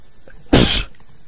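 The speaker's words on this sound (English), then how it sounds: "For I have sneezed." A single loud, sharp sneeze bursts out close up, lasting under half a second against a quiet room background.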